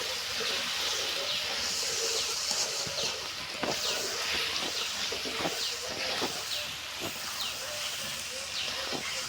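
Sweet pumpkin pieces sizzling in a pan as they are stirred, a steady hissing fry with scattered scraping and clattering strokes of the spatula, close and continuous.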